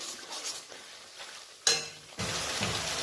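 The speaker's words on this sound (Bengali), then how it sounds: "এবার ভালো করে নাড়বো এটাকে" Ground spices with turmeric and salt for lote fish curry are stirred in a pan. A faint start gives way to a sudden clatter, then a loud, dense sizzle and scraping.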